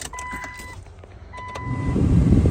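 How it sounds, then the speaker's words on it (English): Two electronic chimes sound in a Jeep Cherokee, then a low steady whooshing rumble of its replacement blower motor rises and keeps running. "You can hear the blower motor in there."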